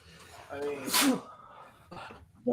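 One sharp human sneeze during a live reaction watch of a WWE SummerSlam 2021 wrestling broadcast, preceded by a quick intake of breath, close and loud, with low background chatter around it.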